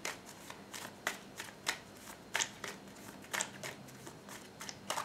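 Tarot cards being shuffled up close, a steady run of crisp riffling bursts repeating every second or so, with no talk over them.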